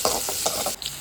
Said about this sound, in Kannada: ಈಗ ಚಾಪ್ ಮಾಡಿ ಇಟ್ಟಿರುವಂತಹ ಈರುಳ್ಳಿ ಹಾಕೊಳ್ಳೋಣ